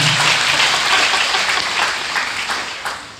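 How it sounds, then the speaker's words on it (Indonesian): A large church congregation applauds loudly and steadily, a dense wash of clapping that fades slightly toward the end. "Tepuk tangan buat Tuhan."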